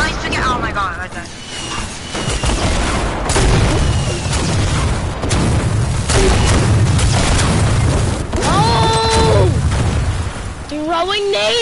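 Grenade blasts in Fortnite Battle Royale, several booming bursts scattered among gunfire and game noise, with a voice talking over much of it.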